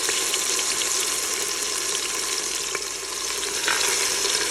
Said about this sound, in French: On place notre viande dans la cuve.